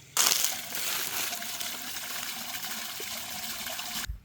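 Irrigation water rushes steadily and fairly loudly around trees for about four seconds, an even broadband flow that starts and stops abruptly.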